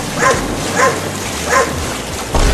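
A dog yelping and whimpering in distress, caught near water by a police station, giving three short high whining cries at even intervals over a low rumbling background, then a louder burst at the end.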